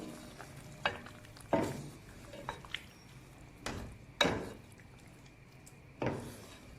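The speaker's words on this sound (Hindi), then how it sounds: "इसे थोड़ा सा मैं फ्राई करूंगी" Green chicken masala fries quietly in a pan with a soft sizzle, while several sharp scraping and stirring strokes and utensil knocks come through at irregular intervals; nobody speaks.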